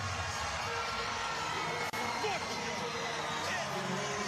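A standing crowd cheers and applauds after a Big West men's volleyball tournament final between Hawai'i and Long Beach State, a dense continuous roar of clapping and shouts throughout, with a commentator talking over it.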